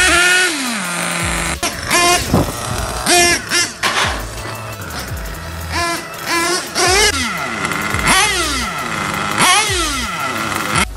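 Nitro-engine RC car running alone, its small two-stroke engine buzzing and repeatedly revving up and down in sharp rising and falling whines, loud and close.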